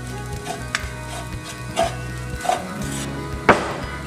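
Grated coconut roasts in a pan for laddoo, a soft steady sizzle under low hum with occasional light scrapes and clinks of a spoon against the pan.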